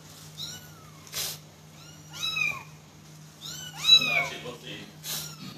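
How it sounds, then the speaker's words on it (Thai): Young kitten meowing several times in a row, with high, clear cries coming in short bursts close to the microphone, separated by brief pauses and accompanied by a faint steady hum. "มึงเป็นแมวไม่ต้องบอก"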